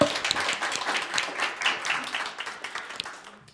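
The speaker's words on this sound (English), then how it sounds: "give him a round of applause" An audience claps steadily for a few seconds, a close, dense patter of applause that gradually fades toward the end.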